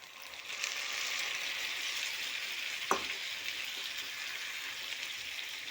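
Goat brain fries and gets stirred with golden onions in a hot pan, giving a steady close sizzle throughout with one sharp scrape of the spoon partway through.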